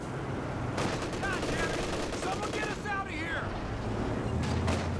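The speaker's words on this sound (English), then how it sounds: "Incendiary rounds activated on the MG34. Fast suppression there." An MG34 machine gun in Company of Heroes 2 fires incendiary rounds as sustained, dense bursts of rapid gunfire. A voice talks over the shooting, which is joined by other battle noise.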